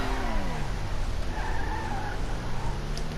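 A Grotti Visione sports car in GTA Online brakes hard, its tires skidding and squealing in a sustained wavering screech over steady engine roar, close and loud for about three seconds with no talk.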